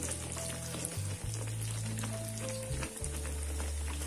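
Naan pakora, a besan-coated vegetable naan, fries in hot oil with a dense, continuous close sizzle and bubbling, a low hum running beneath and no voices.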